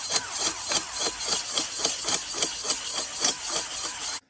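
A steady rhythmic rasping and scraping of a sandstone hone working back and forth inside a Honda Hawk 250 motorcycle engine cylinder, driven by a drill, about two strokes per second, up close, then stopping abruptly.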